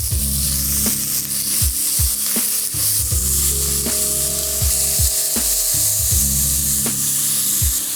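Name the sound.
meat searing and crackling in a hot pot for goulash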